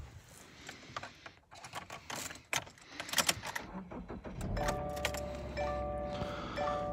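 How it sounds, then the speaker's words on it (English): Keys jangle and click before the engine of a 2017 Subaru Legacy 2.5i turns over and settles into a steady idle, heard from inside the car with dashboard chimes ringing over the hum. "And I'll go ahead and start the car."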